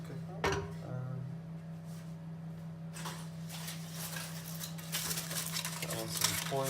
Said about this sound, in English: Gonna get a pan, thingy